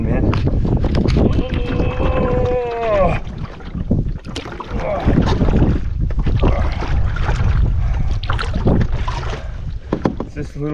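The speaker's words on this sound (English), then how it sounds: "Look at this wind, man." Strong wind buffets the microphone on a wilderness canoe trip, a loud continuous roar with gusts, while someone talks over it.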